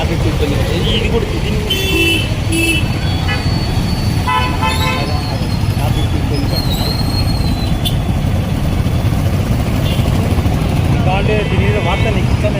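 Busy street traffic in Nandyal with repeated car horn toots over a steady engine rumble from cars, buses and motorcycles, loud and continuous, with voices talking amid the noise.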